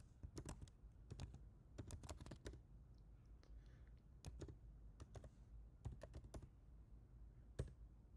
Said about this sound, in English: I can type it in the chat room real quick